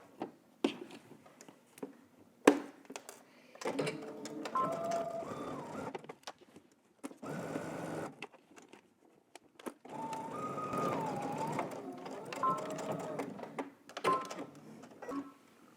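A sewing machine stitches a 5/8 inch seam on pants, running in several short, quiet whirring bursts separated by pauses and faint handling clicks.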